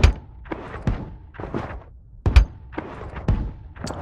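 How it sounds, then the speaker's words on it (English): Shotgun blasts in the zero-gravity tactical shooter Boundary, several sharp thudding reports spaced about a second apart, moderately loud with quieter mechanical rattles between them. "shooting a shotgun from a distance"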